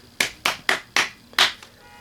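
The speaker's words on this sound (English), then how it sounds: "I'm giving it all 5 claps" Five sharp hand claps ring out close and loud in an uneven rhythm, with a slightly longer gap before the last clap.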